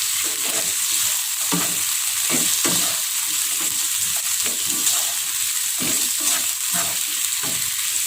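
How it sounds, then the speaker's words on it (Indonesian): Carrot slices being stirred into a pot of oxtail soup, a steady hiss and sizzle throughout with repeated scraping strokes of the spoon, close and loud, no talk. "Lalu kita masukkan juga ini irisan dari wortel. Kita aduk rata juga."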